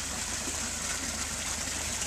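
A small waterfall splashes steadily into a goldfish pond, a constant close rush of falling water with no pauses or voices.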